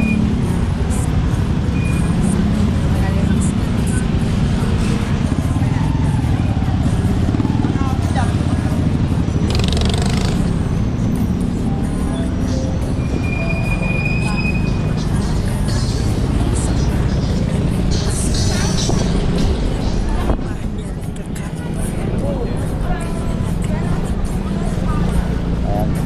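Busy street traffic in Biñan, Laguna, a steady broadband roar of passing cars, motorcycles and buses heard from within the flow, continuous and fairly loud with a brief lull near the end and voices faintly mixed in.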